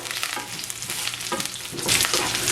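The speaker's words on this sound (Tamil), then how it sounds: "இப்போ இதை இதில் போடுங்க. போட்டு இதை மிக்ஸ் பண்ணி விடுங்க." Broken dried red chillies stir-fried in a pan, a loud close sizzle with repeated scraping strokes of a spoon that swell toward the end, no talk.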